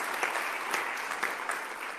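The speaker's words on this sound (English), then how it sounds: "Make a round of applause for Lina GÁLVEZ." A conference audience applauds in a short, steady burst of many hands clapping, moderately loud, with no speech over it.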